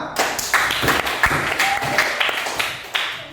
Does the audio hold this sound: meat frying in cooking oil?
no